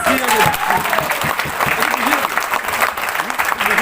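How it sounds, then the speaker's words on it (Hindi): Loud crowd applause at an anniversary event with big announcements and a catalog and t-shirt launch, a dense wash of many hands clapping together, with a voice carrying over it. "जोरदार तालियां देके बताइए प्लीज"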